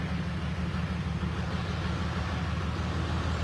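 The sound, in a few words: 1996 Toyota Land Cruiser LC80 engine running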